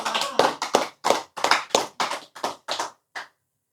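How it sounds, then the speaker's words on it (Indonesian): A small audience claps in unison, about a dozen sharp, evenly spaced group claps that stop abruptly and leave silence. "Tepuk tangan."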